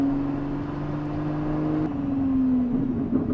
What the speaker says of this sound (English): The burbles in this thing.